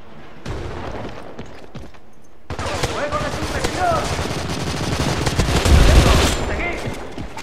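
Heavy automatic gunfire from the Crossfire shooter game starts with sparse shots, then builds into a loud, dense barrage with booming hits, and faint voices mixed underneath.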